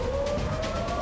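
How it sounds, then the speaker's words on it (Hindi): Air raid sirens sound over Israel during a drone attack: a steady, sustained wailing tone over a dense rumbling background. "और जब वो इजराइल के आसमान में पहुंचे तो सायरन बजने लगे।"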